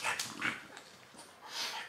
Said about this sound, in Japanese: テイク、 ハハしないで